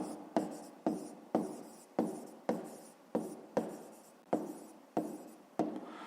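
Pen scratching across a notebook page in rapid, regular strokes, about eleven short scribbles each fading before the next, close and clear with no talk.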